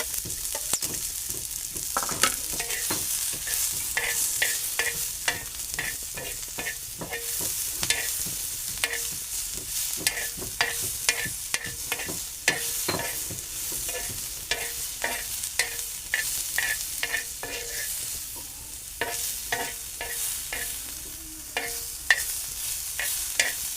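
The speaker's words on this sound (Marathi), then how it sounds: "पहिला मी कांदा परतणार आहे" Chopped onion sautés in a pan for chickpea curry under a continuous bright sizzle. Frequent spatula scrapes and clinks tick along in an irregular rhythm throughout.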